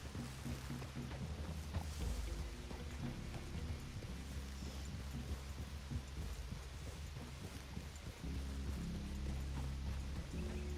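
Horses' hooves clip-clop in a steady rhythmic patter through the Red Dead Redemption 2 game world, layered over a low droning background and continuing throughout with no talk.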